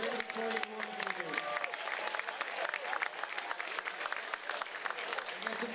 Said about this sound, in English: How about a big round of applause for Kids Sport Greater Victoria